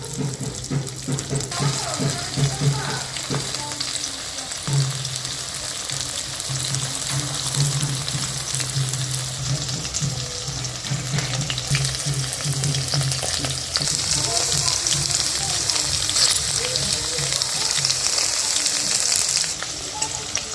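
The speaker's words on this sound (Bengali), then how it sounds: "দেখুন ভাজা হয়ে গেছে ঢেঁড়সগুলো" Okra frying in oil with a continuous loud sizzle, plus occasional stirring and scraping sounds close by.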